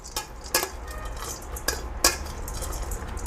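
Fried noodles being stirred and tossed with masala in a pan for street-style Chinese bhel, with a few sharp scraping clanks of the utensil against the pan over a steady low background.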